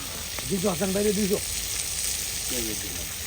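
Tangra fish fry in hot oil, giving a steady bright sizzle that runs throughout while a voice speaks briefly over it twice.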